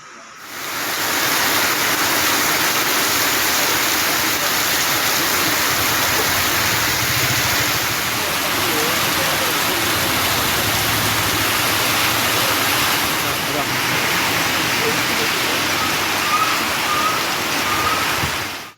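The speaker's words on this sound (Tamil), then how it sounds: "விட்டுவிட்டு பொழிந்த மழையால் மக்கள் வீடுகளில் முடங்கினர்." Heavy rain pours steadily in Tamil Nadu's Theni and Kanyakumari districts, a dense, continuous hiss of falling water that stays loud and even throughout with no voices.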